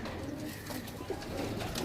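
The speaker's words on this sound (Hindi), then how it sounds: "बहुत अच्छा कबूतर है" A pigeon coos softly in a short low throaty call, faint and nearby, amid a quiet background of other birds.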